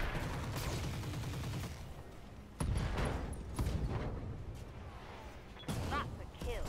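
Mech weapons fire in a RogueTech BattleTech battle as sharp cracks and booming impacts in several separate bursts over steady rumbling game noise, with brief speech between shots.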